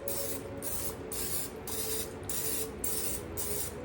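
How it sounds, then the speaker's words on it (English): Cooking spray hisses into muffin tins in a quick series of short, close bursts with brief gaps between them. "I'm going to spray my little muffin tins."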